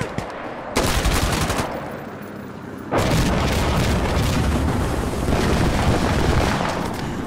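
Gunfire in the tactical shooter Insurgency Sandstorm, a loud close burst followed by a lull, then sustained rapid automatic fire and blasts that keep on without pause.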